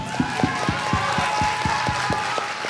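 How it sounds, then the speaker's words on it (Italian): Audience applause at a school Christmas show, rhythmic hand clapping from a crowd keeping a steady beat, fairly close and continuous. "Un applauso."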